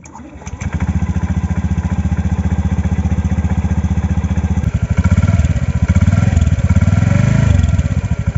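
A 2019 Honda Beat scooter engine cranks smoothly and catches, then settles into a steady, close idle before revving up briefly and dropping back.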